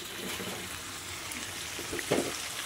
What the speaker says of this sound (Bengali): দেখো আমার আরেকটুখানি কষানো হবে মাংসটা